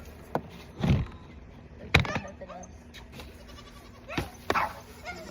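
Goats on a farm give several short, scattered bleats at close range, separated by quiet gaps and accompanied by light background noise.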